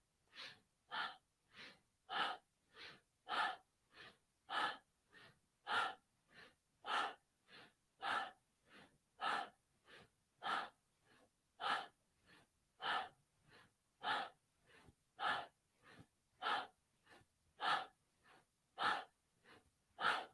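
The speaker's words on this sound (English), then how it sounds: "So you can hear my breath is quite powerful. You know, the inhale and the exhale." Forceful yoga breathing with rapid, rhythmic inhales and exhales, about thirty sharp breaths in a steady pulse, close and quiet with no talking.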